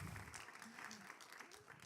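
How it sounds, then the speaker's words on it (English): Steady applause from an audience at a 40th anniversary film screening in a theater, a continuous clatter of clapping heard at a distance with talk faintly mixed in. "yes, applause for that"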